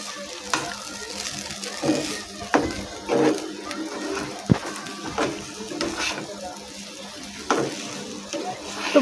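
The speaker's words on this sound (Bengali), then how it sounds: "এরপরে আমি ভালো করে নাড়াচাড়া করে নেবো" Semolina being stirred in a pan of hot oil, with soft scraping strokes repeating at irregular intervals over a gentle sizzle, close by and moderately quiet, with no talking.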